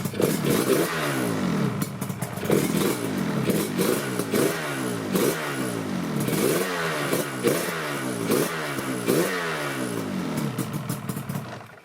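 A Yamaha RZ350 two-stroke motorcycle engine runs loudly nearby after a choked start, with its rough, pulsing exhaust rising and falling in repeated revs over about twelve seconds.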